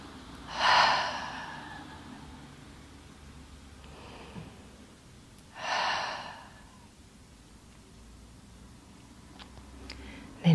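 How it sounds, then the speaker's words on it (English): Deep exhalations through the mouth during yin yoga breathing, two long breathy whooshes a few seconds apart, close and fairly soft against a quiet room. "Exhale through your mouth."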